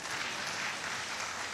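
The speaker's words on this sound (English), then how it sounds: "Can you clap for yourself?" Audience at a live fisheries discussion event clapping, a continuous, even wash of applause from a group, moderately distant and unbroken by talk.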